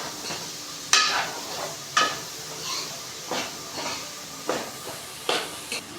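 Black-eyed peas being stirred into sizzling fried masala in a pan, with a soft frying hiss underneath and repeated scraping clinks of a spoon against the pot at roughly one-second intervals, close up.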